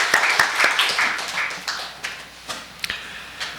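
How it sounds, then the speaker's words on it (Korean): A church congregation gives a short burst of applause after a hymn, with quick overlapping claps that thin out into a few scattered taps in a reverberant hall. "주님께 영광의 박수 올려드리겠습니다"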